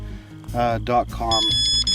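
Electronic beeping tones from a carp fishing bite alarm, a few short bleeps sounding under a voice as he talks nearby.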